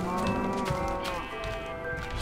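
Minecraft cow mooing in a steady, loud, continuous low call that lasts the whole moment, with game ambience underneath and no talk.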